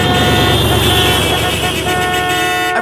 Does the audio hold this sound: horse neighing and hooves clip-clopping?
no